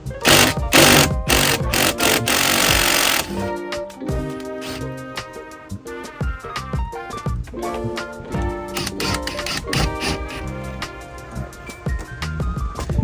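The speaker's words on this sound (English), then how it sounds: "next we have a 22mm nut. So I'm going to use my impact driver here. On, break this loose." Impact driver hammers away at a 22mm nut while cruise control is fitted to a Chevy Express skoolie, starting with a loud continuous burst and then running on as rapid, rattling pulses up close.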